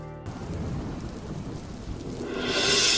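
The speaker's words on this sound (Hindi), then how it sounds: "बाहर कितनी सुंदर बारिश हो रही है।" Steady rain falls outside with a low rumble underneath, the hiss of the downpour swelling louder toward the end.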